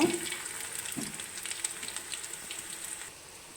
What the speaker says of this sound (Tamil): இப்போ வாழைப்பூ நல்லா பொரிச்சாச்சு